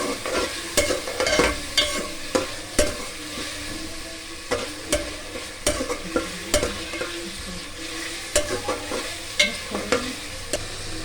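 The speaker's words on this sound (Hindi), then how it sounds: "देसी के अंदर डाल दिया और अब इसको हल्का सा फ्राई करेंगे" Spices fry lightly in hot desi ghee for beef yakhni pulao, a continuous sizzle broken by frequent sharp scrapes and knocks of a spoon stirring against the pot, close and fairly loud.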